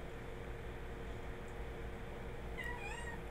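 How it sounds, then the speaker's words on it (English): A house cat meows indoors near the end of a quiet stretch of room hiss: two or three short, rising and falling meows, fairly faint, with nobody talking. "You guys hear a cat in the background?"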